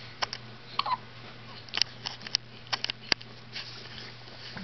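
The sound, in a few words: hiccups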